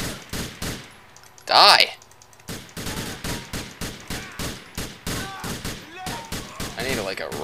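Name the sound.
gunfire from Grand Theft Auto IV video game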